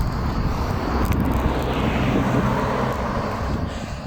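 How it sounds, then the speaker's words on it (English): A steady broadband roar of a car approaching and passing nearby on a road in Catalonia, mixed with gusty wind buffeting the microphone, fairly loud throughout. "there's a car coming"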